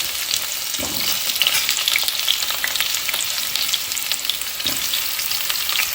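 Vegetables fry in a hot pan before going into a pressure cooker, giving a loud, steady sizzle close by with occasional scraping from stirring. No one speaks.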